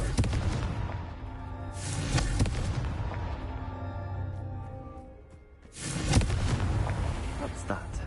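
A Confringo explosion spell goes off in Hogwarts Legacy, bursting with loud booming blasts that roll on for a few seconds, then fade before a second heavy blast erupts.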